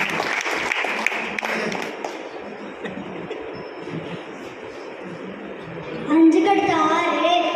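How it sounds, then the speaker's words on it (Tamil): An audience claps to welcome a child performer at a Tamil stand-up comedy show, a burst of applause that thins out and then gives way to a voice and music. "நல்ல உற்சாகமாக கைத்தட்டி நான் வரவேற்கிறேன்."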